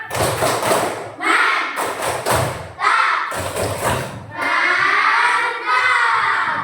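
A classroom of children performs the 'tepuk mantap' clapping chant, loud rhythmic group claps and thuds mixed with shouted chanting, ending in a sustained chorus of young voices.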